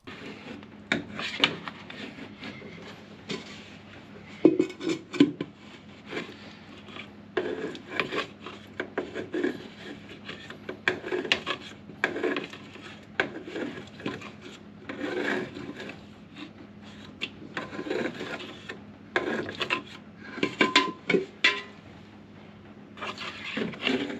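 A long screwdriver scrapes out a blocked hospital macerator, giving repeated rough scraping and rasping in irregular bursts of metal grinding against a hard surface, fairly close and otherwise quiet.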